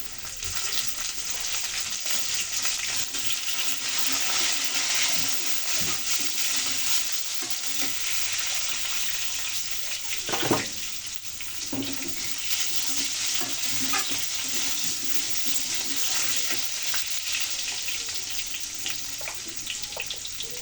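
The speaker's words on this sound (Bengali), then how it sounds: "এখন বেগুনগুলো দিয়ে কিছুক্ষণ নেড়ে চেড়ে ভালো করে ভেজে নেব" Eggplant pieces being stirred and fried in a pan for a Bengali shukto with potatoes, a steady loud sizzle filling the whole stretch, with occasional scrapes and knocks of the spatula and no talking.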